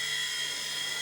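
A small remote-control model aircraft engine whines at a steady high pitch throughout, loud and close, with a faint low hum beneath it.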